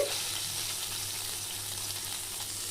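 Whole cardamom, cinnamon, cloves and bay leaf sizzle in hot ghee in a pan for a spiced pulao, a steady close frying hiss with faint stirring and no voices.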